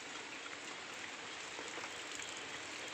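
Heavy rain pours in a dense, continuous hiss with faint scattered splashes, steady and even throughout, with no voices.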